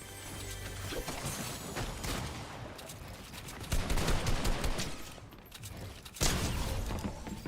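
Shotgun blasts in the Fortnite video game, several loud, sharp bursts with mechanical clatter between them, up close.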